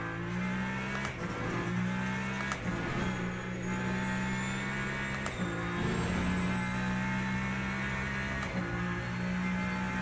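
Onboard race car engine in Le Mans Ultimate at Spa, a loud steady high-revving drone with repeated sharp gear shifts and rev changes, recorded from the cockpit with no talk.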